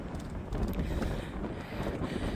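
Strong coastal wind near Bude sea pool buffets the microphone in low, gusting rumbles, loud and continuous, with no voices.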